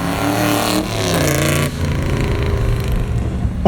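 A 1963 Corvette with the top down revs its exhaust during a rolling exhaust contest at a Corvette show, giving loud, rising and falling engine pulls with harmonic tones that ease into a steady, rumbling cruise.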